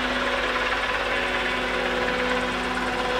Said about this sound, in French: Là, ce que tu entends, c'est un mec en hélicoptère